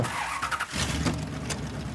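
A car in the PS4 video game Mafia 3 drives past with a steady engine rumble and a brief tire squeal, fairly faint and without talk.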